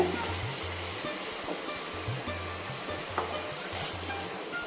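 Chopped stem amaranth greens sautéing in a pan, with a steady close-up sizzle and scraping stirs over a constant low hum, no talking.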